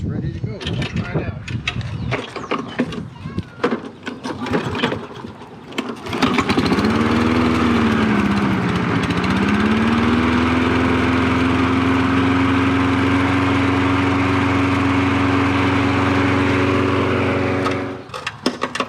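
A Toro 22-inch Recycler lawn mower is pulled and clattered with for several seconds before its engine catches, then runs loud and steady close by with a rising whine that levels off, cutting out just before the end.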